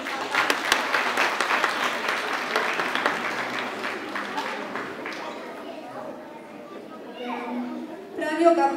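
Children and adults applauding a school class at a first-grade induction ceremony: sustained, dense clapping from a crowded room for several seconds, fading out, with a few children's voices and chatter near the end.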